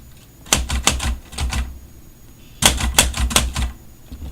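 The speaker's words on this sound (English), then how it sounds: "and now I can type in red." A manual typewriter set to its red ribbon, striking in two quick clusters of five or six sharp, close keystroke clacks with a short pause between them, with no talking.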